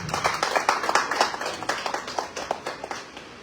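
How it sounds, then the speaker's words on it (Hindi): A smaller audience at a poetry recitation competition claps for a few seconds, individual hand claps distinct within the patter, gradually thinning out toward the end. "इनके लिए जोरदार तालियां।"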